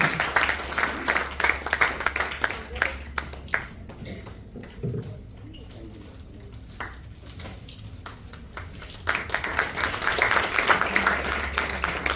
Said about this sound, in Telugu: అందరూ చప్పట్లు కొట్టి దైవ సేవకుల గురించి